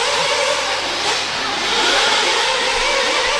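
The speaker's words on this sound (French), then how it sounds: "il y a tellement de bruit à cause des moteurs nitro" Nitro-powered RC car engines howl steadily at a race track in Padova, Italy, a dense high-pitched buzzing roar that fills the whole stretch with no let-up and no voices.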